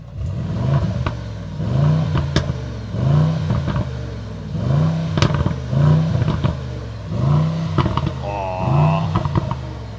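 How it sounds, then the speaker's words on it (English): Mercedes GLE 63S AMG engine and exhaust revving outside the car, loud repeated blips about once every 1.5 seconds, each rising and falling, heard close with no talk. "How do you like the sound of the GLE 63S AMG?"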